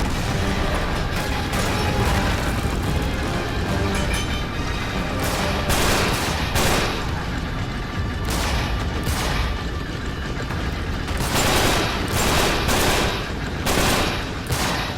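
Sustained gunfire in the video game Uncharted 3: dense, loud volleys of automatic and single shots with booming impacts, continuous throughout with brief rhythmic bursts layered over the mix.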